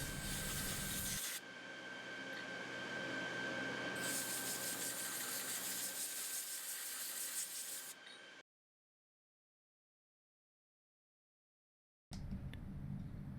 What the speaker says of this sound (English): Using a wire brush, clean the knives along both the top and bottom keyways